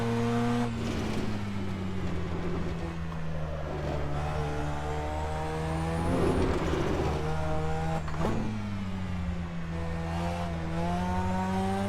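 Mazda RX-7 rotary engine in Assetto Corsa at the Nurburgring, a loud steady engine drone holding and shifting pitch through gear changes, with brief dips and climbs as the car accelerates, no voices.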